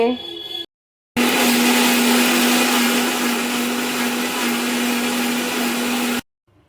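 A mixer grinder blends onion, ginger and tomato into a paste, running loud and steady with a constant whirring whine for about five seconds after a short pause, then cutting off abruptly.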